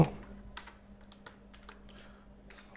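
Python code is typed on a computer keyboard in quick, irregular bursts of light key clicks, close but fairly quiet, with a faint steady hum underneath.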